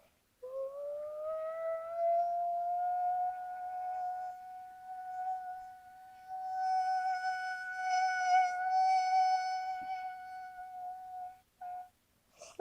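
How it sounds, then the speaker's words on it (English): A tornado warning siren wails as one long, loud sustained tone that rises at the start and holds steady for about eleven seconds before cutting off, with no talking over it. "The sirens were very loud."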